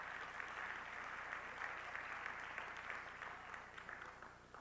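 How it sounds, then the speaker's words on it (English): A round of applause from the audience at a Jewish National Fund Negev dinner in a Hamilton convention center, steady dense clapping filling the room throughout without voices. "Please give them a round of applause."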